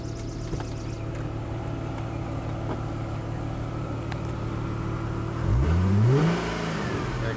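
A stock 1999 Plymouth Prowler engine idles steadily with a low hum. Near the end it is revved once in a quick rising-and-falling surge, then settles back to idle, close and clear with no talk.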